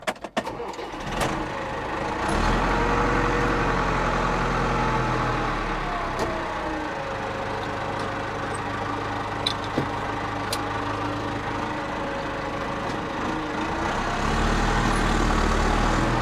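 A tractor engine idles steadily and loudly close by, a low continuous rumble that holds for the whole stretch with slight shifts in pitch.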